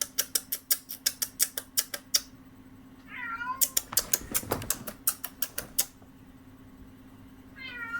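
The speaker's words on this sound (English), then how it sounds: "my cat is meowing at me" A pet cat meows in two short, rising calls, the first midway through and the second at the very end. Between them runs a rapid, regular train of sharp clicks and taps with a steady low hum underneath.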